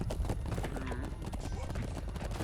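Rhythmic hoofbeats of a galloping horse in the video game Chivalry 2 thud under a low rumble, with a brief horse whinny midway, a steady galloping clip-clop kept up throughout.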